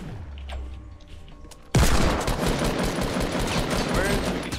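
Rapid automatic gunfire erupts abruptly in Fortnite Battle Royale after a quieter stretch of faint game sounds, then continues as a dense, loud fusillade of close shots.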